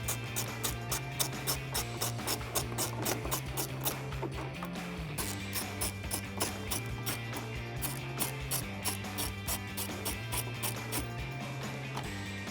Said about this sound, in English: now we're gonna grab our 8mm ratchet and socket. We're gonna remove the two down here by our plastic trim